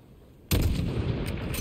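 A rifle shot in Call of Duty Modern Warfare, one sudden loud blast that cuts in from near silence and rolls into a sustained rumbling echo as the report dies away.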